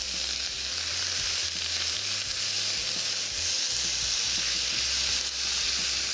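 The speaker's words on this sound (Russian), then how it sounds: "Смотрим, что у нас там снизу жарится. О, все жарится," Steady, bright sizzling of onion and carrot frying in a hot pan, continuous and close, with low rumbling underneath and no voices.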